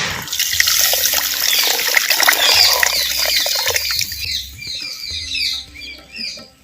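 About 200 ml of water is poured into a pan of egg fry masala, giving a loud, steady splashing pour that thins to a lighter trickle toward the end, with no talk.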